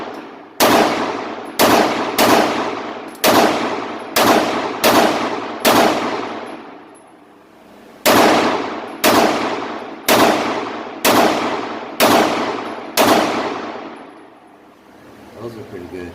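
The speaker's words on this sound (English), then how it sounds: "And then we'll shoot it." Taurus TH9C 9mm pistol fired at an indoor range: eleven sharp, loud gunshots in two strings, each ringing out with a decaying echo, with a pause between the groups.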